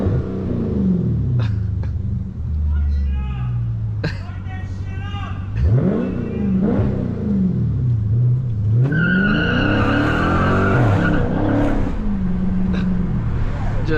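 Dodge Scat Pack revving hard on a Chicago street, its engine note rising and falling in repeated surges over a steady rumble, with voices talking close by and shouting through much of it.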